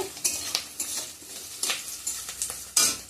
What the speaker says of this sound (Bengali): এখানে পেঁয়াজ আর গাজরগুলো আমি দিয়ে দিছি তেলের মধ্যে